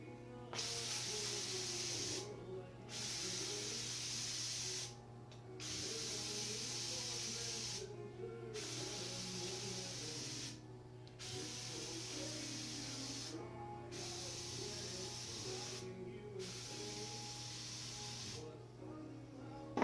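A hair steamer hisses steam onto dreadlocks in long, even bursts, about eight of them, each separated by a short pause, over a steady low hum.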